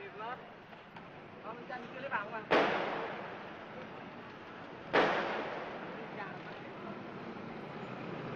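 Gunfire in Saigon in 1975 as defeated soldiers shoot toward buildings: two sharp, echoing reports a few seconds apart stand out over a dense, noisy background.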